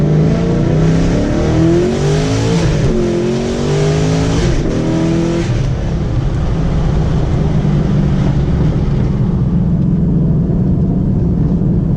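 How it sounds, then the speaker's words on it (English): A Chevrolet Camaro with 3.91 gears accelerates hard through first, second and into third gear with its tires spinning; the engine is loud and close, rising in pitch, then dropping at each shift before climbing again. "I'll go ahead and do like a first, a second, maybe into third, just a little bit. Already spinning."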